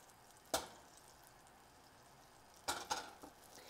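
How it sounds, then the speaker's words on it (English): Butter sizzling as it melts in a frying pan being readied for an omelette, heard as faint, soft frying with a few brief louder crackling bursts, no voices. "Hear that nice sizzle."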